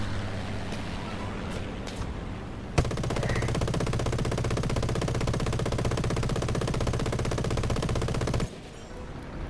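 Rapid, sustained aircraft machine gun fire from a War Thunder air battle, a dense continuous rattle that starts abruptly and runs for several seconds before cutting off, with engine drone underneath.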